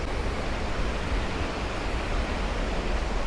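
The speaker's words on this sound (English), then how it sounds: "How crazy the water coming down." Water roars steadily down a large waterfall in a Bali rainforest, a dense, unbroken rush of noise heard up close with no voices.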